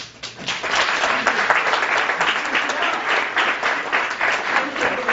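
A large conference audience claps enthusiastically for a panel, a dense, loud wash of applause that holds steady for several seconds.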